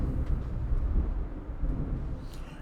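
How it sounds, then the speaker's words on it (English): A distant, low rumble of thunder rolls continuously in the background, deep and muffled, with no talking over it. "I've got thunder"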